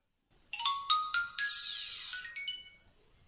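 Startup jingle of a cheap smartwatch phone costing under £20, a short rising run of bright chime tones that then fades out, played alone and close.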